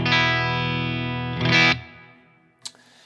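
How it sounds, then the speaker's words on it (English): Electric guitar played through a modeler with a hall reverb: a sustained distorted chord rings out, a second bright strum swells and decays into a reverb tail, then a brief sharp pluck. "And there's a Hall reverb there as well."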